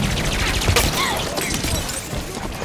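Dense, continuous gunfire and explosions in the Halo 5: Guardians campaign as turrets are destroyed, a loud unbroken barrage with no speech.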